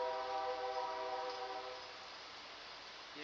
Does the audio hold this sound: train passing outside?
yes